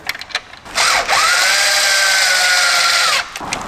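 Power tool snugging 10 mm bolts on a Toyota Tacoma TRD grill sensor mount, a loud close whir lasting about two and a half seconds between a few light clicks and taps.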